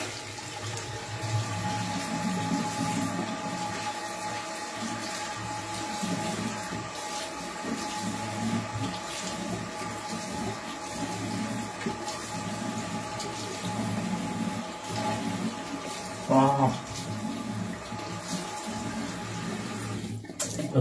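Cold tap water runs steadily into a sink and is splashed onto a freshly shaved face, a continuous near hiss of flowing water with brief louder splashes late on.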